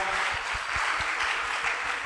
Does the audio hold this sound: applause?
yes